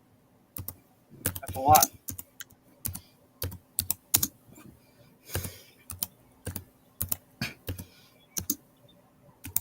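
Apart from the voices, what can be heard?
typing on a noisy computer keyboard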